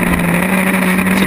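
Historic Formula Ford race cars roar past at Snetterton circuit, a loud, continuous engine whine with a steady tone and no talking.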